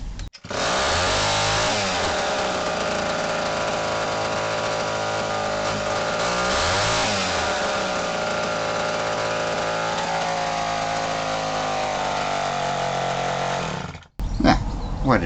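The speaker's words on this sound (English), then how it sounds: "So we'll give it another start, see what happens." A vintage Homelite WIZ chainsaw, started with the choke off, runs loud and rough for about fourteen seconds with its engine note wavering, then cuts out abruptly before a brief restart attempt.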